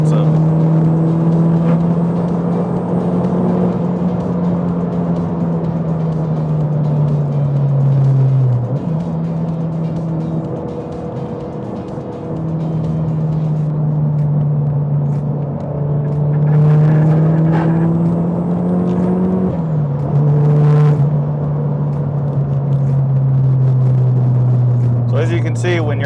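A turbocharged car engine revs hard at high RPM, loud and close, its tone climbing then dropping at several distinct gear shifts before pulling up again.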